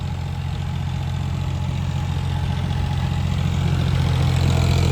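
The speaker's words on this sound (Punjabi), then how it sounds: "ਇਹ ਟਰੈਕਟਰ ਪੂਰਾ ਆਰਾਮ ਨਾਲ ਨਜ਼ਾਰੇਦਾਰ ਚੱਲਦਾ" A Massey tractor engine runs steadily at a low, even idle-like throb, a continuous near mechanical drone with no talk over it.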